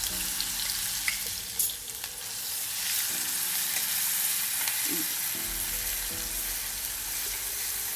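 Green chili paste frying in hot oil in a pan, a continuous crackling sizzle with occasional stirring scrapes and small pops, close and steady throughout.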